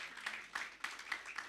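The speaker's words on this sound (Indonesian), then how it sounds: "Yang percaya berikan tepuk tangan bagi Tuhan" A church congregation at a Pentecost worship service gives a short burst of applause, faint and somewhat distant, with several clustered claps over about a second and a half.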